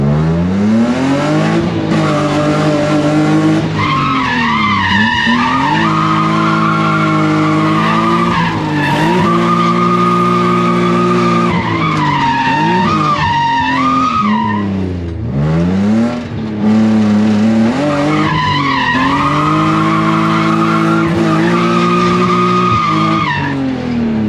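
A cheap, rusty BMW E36 drift car skids with loud, continuous tire squeal over a steady engine drone, the pitch rising and falling through long slides, close and sustained for most of the stretch with only brief dips.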